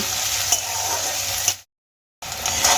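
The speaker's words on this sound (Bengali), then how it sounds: "এবার আমি পেঁয়াজগুলোকে" Onions frying in hot oil for Bengali-style aloo kachuri, a steady close sizzle with stirring scrapes, cut off by a half-second gap of silence before the sizzle resumes.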